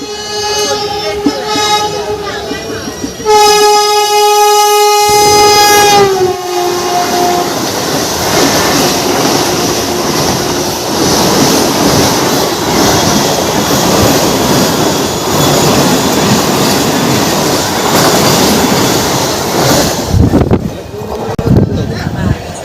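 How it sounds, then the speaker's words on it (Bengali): Rourkela–Howrah Vande Bharat express overtaking the Tamralipta Express at night, a loud horn blast followed by a long roaring rush of passing carriages with rattling wheels, ending abruptly. "তাম্রলিপ্ত এক্সপ্রেসকে করছে ওভারটেক"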